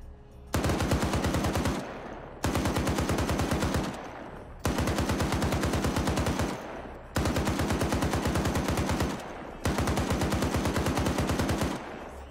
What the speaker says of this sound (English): I'm gonna have this guy panic fire up there